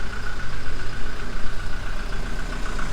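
A 2018 Toyota Revo 2.4 E four-door pickup engine idles steadily up close, a loud, even diesel chatter with a slight knocking texture running the full length with no talking.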